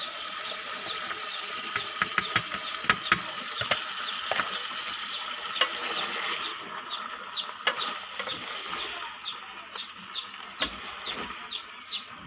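Chopped capsicum and onion fry in a pan with a steady sizzle, while a spoon scrapes and clinks against the metal in irregular stirring strokes, close and moderately loud.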